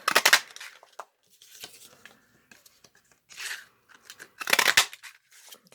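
A postage stamp punch chews through scrap cardstock in short crisp bursts of crunching and snipping, with quiet gaps between strokes, close and fairly faint.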